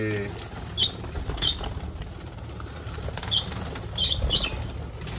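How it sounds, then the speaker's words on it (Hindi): Caged parrots being released give several short, sharp bursts of wing flapping at irregular intervals over a low, steady background hum. "इन तोतों को है ना दस्ती से केज में जाके ना खोलते हैं"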